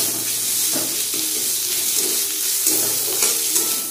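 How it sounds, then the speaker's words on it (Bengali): Ginger garlic paste fries in a pan while being stirred, a steady close sizzle with faint scraping of the spoon and no talking. "এবার এর মধ্যে দিয়ে দেব আদা রসুন বাটাটা। এটাকে একটু ভালো করে ভেজে নেব।"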